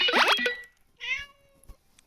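A fairy cat in a mobile video game gives a short meow, preceded by a brief burst of bright chiming game sound, then a faint click afterward.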